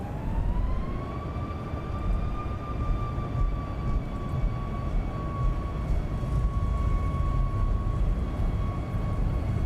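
A Boeing 737 Max-8 in a flight simulator game starts its takeoff roll: a steady engine roar with a rising whine that levels into a sustained tone, loud and continuous with no talk.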